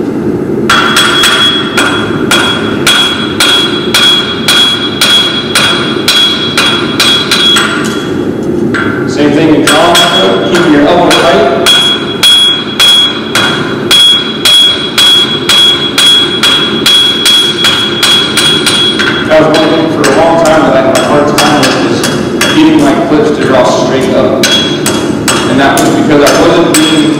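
A hammer strikes metal over and over in a steady, rapid rhythm of sharp ringing blows, close and loud, with a short pause partway through before the strikes resume.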